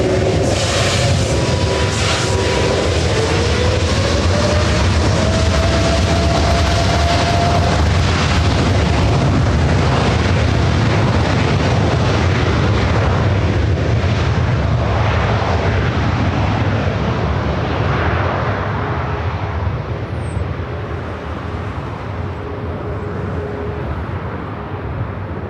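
A 787-10 Dreamliner bound for Amsterdam turns onto runway 24 Right at LAX and spools up to takeoff power: a loud, close, rumbling jet roar with a rising whine that slowly fades as the aircraft rolls away.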